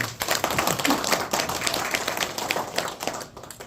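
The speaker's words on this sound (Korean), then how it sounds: "그런 회장님께 박수 한번 보내주십시오" Audience at an alumni association general meeting clapping for the association president, a steady crowded patter of hand claps lasting several seconds.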